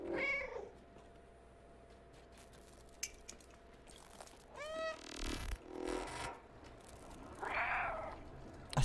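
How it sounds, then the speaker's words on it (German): A cat meows in the video game Stray, with several short, mid-loud calls spread across the clip over a quiet low hum, with a brief rustle and a louder burst near the end. "Das Miauen ist ja nice gemacht."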